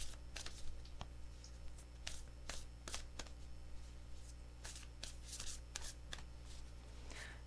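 Riffling playing cards in a series of quick, crisp bursts, close up, with short pauses between shuffles and no talking.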